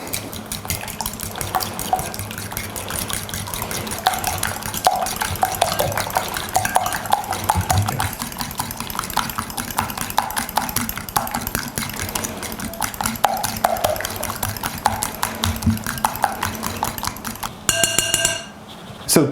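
Sugar being stirred into dough in a mixing bowl, a steady scraping, swishing churn that runs continuously and fairly loud, with a brief clatter near the end.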